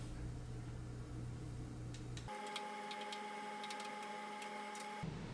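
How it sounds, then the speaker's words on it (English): A 1/8 inch milling cutter cuts a groove through a wall on a battery compartment cover for a tractor, a steady high whine with a harsh, rattling cutting tone that holds for several seconds. "let's switch cutters and go to town cutting that 1/8 inch groove"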